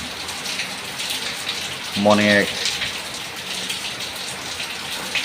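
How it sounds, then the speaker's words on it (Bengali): Steady rain falls outside a house, a continuous broadband hiss of drops that runs the whole time, with a brief voice speaking midway. "আমি নিজে আমার বাসা থেকে এই বৃষ্টির দৃশ্য দেখছি"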